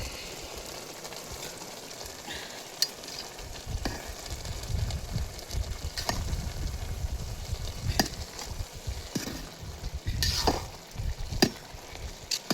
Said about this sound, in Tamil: இப்படி கிளறிக்கணும்